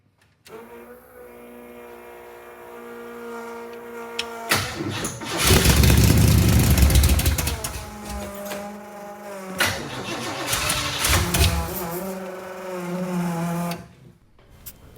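Starter cranking on a Corvette coupe that catches and runs roughly for several seconds, the engine note swelling loud and uneven before cutting out, with a steady mechanical whine underneath throughout.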